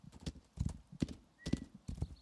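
A horse in the video game Rising World gallops with quick paired hoof clip-clops in a steady rhythm, close and clear, with a faint whinny-like tone underneath.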